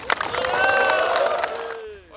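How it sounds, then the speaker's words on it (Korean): Crowd at the finish ceremony of a 139 km, four-day walking expedition breaking into loud applause and cheering, dense clapping with whistles over it, fading out at the end. "우리 서로 큰 박수로 한번 하시죠."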